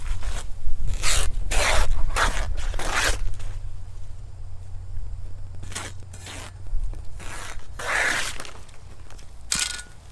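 Fresh banana leaves are cut into strips with crisp, close slicing and tearing swishes, several quick cuts in a cluster, then a pause before a few more.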